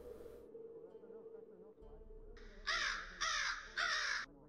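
A crow in a role-play game gives three loud, harsh caws in even succession close by, following a quieter stretch with a low tonal hum underneath.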